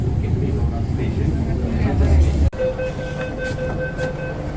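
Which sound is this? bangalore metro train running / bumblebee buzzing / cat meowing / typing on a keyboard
bangalore metro train running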